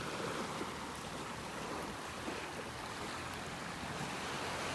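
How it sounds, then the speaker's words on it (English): Heavy rain pours steadily on a beach in North Naples, Florida on a stormy morning, a dense, continuous hiss of rainfall mixed with surf, loud and unbroken with no talking. "And the rain is getting hard."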